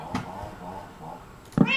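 A cat in the Minecraft video game meows, with a faint cry near the start and a louder, clearer meow near the end, while a person talks over the game sounds.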